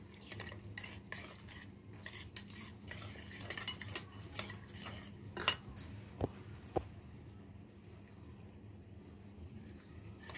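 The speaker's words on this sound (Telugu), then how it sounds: "స్పూన్ తీసుకుని ఇందులో వేసుకుని బాగా కలుపుకోవాలన్నమాట." A spoon stirs horse gram flour into a pot, giving soft continuous scraping with scattered clinks of metal against the vessel and a few sharper taps near the middle, over a low steady background hum.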